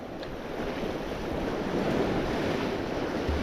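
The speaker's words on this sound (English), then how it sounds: "Our wind's picked up a little bit now." Steady wind blows hard at night beside shallow water where bass lure fishing is underway, a broad continuous rush with gusty buffeting on the microphone and a faint wash of water beneath.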